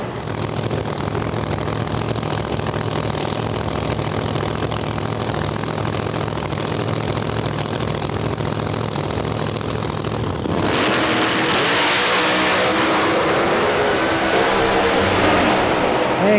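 Tim Brown's Ford Pro drag race car rumbles at a steady idle, then erupts into a much louder, harsher roar as the run begins, with the engine noise filling the track.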